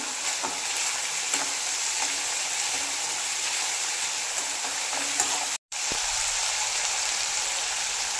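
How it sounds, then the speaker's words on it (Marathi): Sprouted mixed beans fry in oil over a medium gas flame, giving a soft, steady sizzle throughout with one very brief dropout near the middle. "आता इथे पहा, मोडे छान असे तेलात आपण भाजून घेत आहे।"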